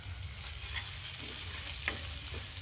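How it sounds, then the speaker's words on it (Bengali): Onions fry in a pan on a gas stove set to low heat. A steady, soft sizzle runs throughout, with faint stirring scrapes and a few light clicks and pops, and no talking. "পেঁয়াজগুলো ভেজে নেব।"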